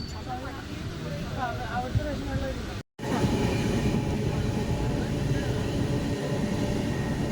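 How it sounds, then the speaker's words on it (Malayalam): A train pulls away and rumbles along with steady rolling noise and rattling carriages; people talk over it early on before a brief cut, then the rumble continues louder. "ട്രെയിൻ എടുത്തു."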